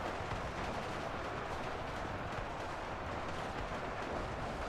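Autocannons fire steadily during a Warhammer 40K battle in the modded game UEBS 2, making a constant rumbling stream of distant-sounding shots and blasts at a low, even level with no pauses.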